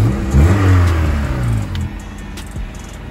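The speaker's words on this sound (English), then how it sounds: "before I end off the video, just one more rev." A car engine revs hard, climbing to a roar, then drops back to a lower rumble and settles into a steady idle.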